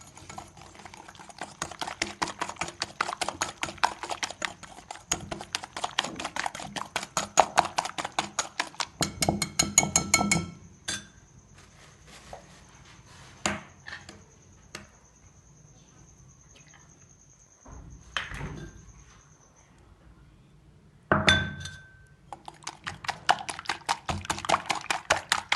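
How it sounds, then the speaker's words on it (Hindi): Egg being beaten into tutti frutti cake batter with a rapid whisking or electric beater, giving fast rhythmic ticking that runs in several bursts with short pauses, close and fairly loud. "अब इसमें मैं ये एग डालूँगी और साथ में इसको बीट करती जाऊँगी"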